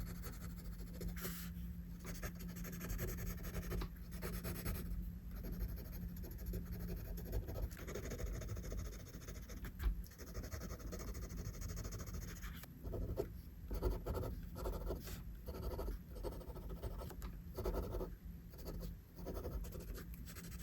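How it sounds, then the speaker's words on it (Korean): Pencil scratching and shading dark areas on paper, continuous close rubbing strokes with short rhythmic bursts, faint and alone. "이렇게 한 후에 어두운 부분을 한번 진하게 만들어줍니다."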